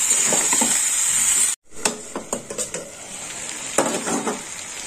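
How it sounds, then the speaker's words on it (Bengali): Onion paste goes into a pan of cooked spice masala for a puti fish dish. A loud steady sizzle breaks off briefly, then a spatula scrapes and clanks in quick irregular strokes over renewed frying. "পেঁয়াজ কালিটা দিয়ে দেবো। একটু নেড়ে চেড়ে নেবো"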